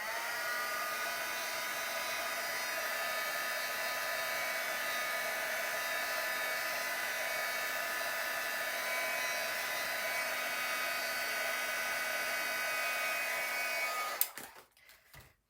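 Steady electric heat tool blowing continuously to dry paint on a handmade card, a loud even whir held for about fourteen seconds before cutting off, followed by a few faint handling clicks.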